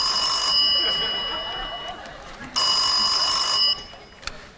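Telephone ringing in an indoor room, an electronic bell tone sounding in two bursts separated by a short pause, loud and close, with a faint click at the end.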